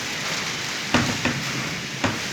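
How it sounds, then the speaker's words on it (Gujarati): Heavy rain pours steadily during a thunderstorm with strong wind in Wankaner, Gujarat, a dense constant hiss broken by three sharp thuds or cracks, with no talking. "ખૂબ જ વરસાદ"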